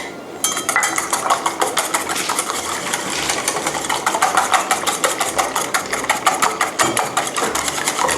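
Chicken egg yolks and sugar are beaten and stirred in a bowl for a custard cream filling for steamed buns: a steady, fast, clattering whisk against the bowl, close and continuous, with no talking.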